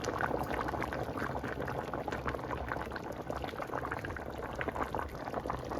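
Mustard hilsa curry boiling in a pot, a dense, continuous close bubbling that stays loud and even throughout.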